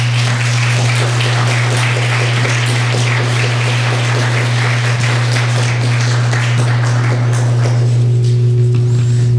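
A church congregation applauds in welcome for the pastor's family as they stand, with broad, steady clapping over a constant low hum that thins out near the end.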